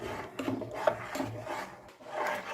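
A spoon stirs and scrapes a thickening rice flour paste, cooked from ration rice for papad and kurdai, in a pot over a low flame, giving close, uneven rubbing strokes with no talking.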